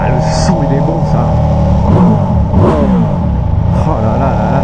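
A Ducati X Diavel Black Star motorcycle engine revs hard and close, with a deep, loud throb that surges in several sharp bursts over a constant rumble.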